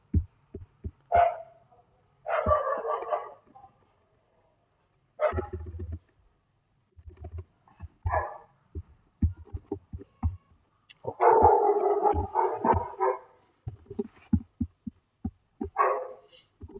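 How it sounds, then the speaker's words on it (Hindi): A neighbour's dog barks in repeated short bursts, a few single yaps and several longer clustered runs, separated by silent gaps, sounding fairly close and loud with no talk over it. "इनका कुत्ता कितना बोलता है भाई।"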